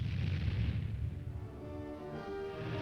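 Tank guns firing, heard as a deep booming report up close that fades into a lingering rumble and ringing tail.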